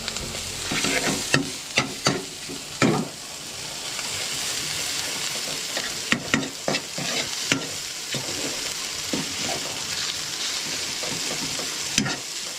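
Ginger and chicken fry in a pan while being stirred, a constant close sizzle punctuated by repeated scrapes and knocks of the spatula against the metal; no talk over it.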